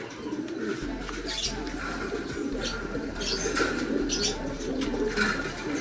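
Racing pigeons coo in a loft with soft, low, repeated calls and a few faint chirps and rustles under a steady low background hum.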